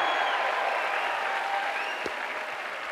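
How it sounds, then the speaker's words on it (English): A church conference congregation clapping loudly and steadily, a dense continuous wash of applause filling the hall with only faint voices within it; no distinct shouting stands out. "shout like you believe it, and clap like you believe it"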